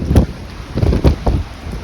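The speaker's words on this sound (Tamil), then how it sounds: "காத்தடி பாருங்க காத்துப்பா சரியான காத்தடி" Strong cyclone winds in Chennai, Tamil Nadu batter the microphone in loud, rumbling gusts that surge and fade several times in quick succession.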